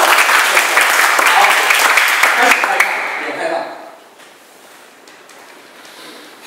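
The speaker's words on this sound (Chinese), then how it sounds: "OK 就拍手 ，OK 就拍手。" A church congregation at a Mandarin Sunday service bursts into loud, dense applause that holds for about three seconds and then tapers off into a quiet room.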